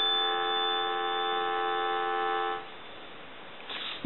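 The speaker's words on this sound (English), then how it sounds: "We'll go ahead and give you some dial tone." A steady, even dial tone on a Stromberg Carlson 500 rotary telephone hums for a few seconds, then drops away into quiet hiss before a brief burst at the end.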